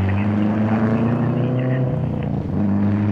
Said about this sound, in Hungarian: hallani, hogy autó megy a pályán